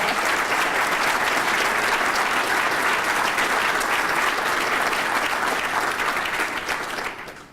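Sustained audience applause welcoming Ottawa University President Kevin Eichner at a 2017 State of the City address, a dense, steady wash of clapping from a large crowd that holds evenly before fading away at the end.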